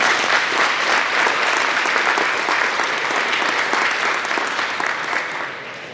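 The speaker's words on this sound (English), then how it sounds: "So let's give them a round of applause." Audience applause at a winter sports awards ceremony, dense sustained clapping from a large crowd throughout, tapering slightly at the end.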